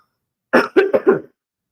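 A quick burst of four close, harsh coughs in a row, loud and dry, followed by silence.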